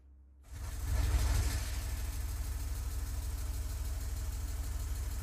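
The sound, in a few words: BMW car engine idling after start-up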